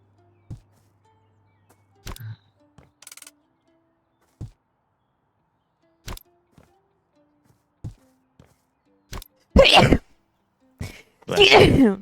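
Two sharp sneezes burst out near the end during a House Flipper 2 renovation session, preceded by scattered quiet taps and clicks, with no talking over them.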